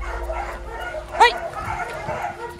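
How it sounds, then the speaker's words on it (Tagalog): Dogs at a private resort in Pangasinan during heavy rain and strong wind, a single short yelping bark amid background chatter and steady noise, with people talking nearby. "Dami aso."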